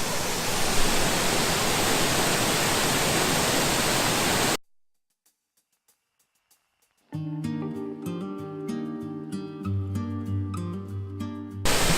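Waterfall in the Brecon Beacons, Wales, with three or four streams coming down. The water gives a loud, dense, steady hiss for the first few seconds, then cuts to silence, and music follows.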